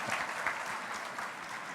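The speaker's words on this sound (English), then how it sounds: "Let's give them another round of applause." A crowd applauds at the grand opening of the Billie Jean King Main Library in Long Beach, a dense, even wash of clapping that holds steady for the whole short stretch.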